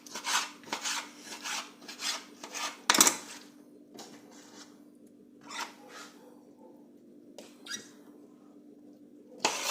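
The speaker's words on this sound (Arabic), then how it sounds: "ودوك نبدا نقطع معكم الفلفله تاعنا" A knife cuts through peppers with rhythmic rasping, scraping strokes, several close sawing bursts separated by short pauses, alone against a faint steady hum.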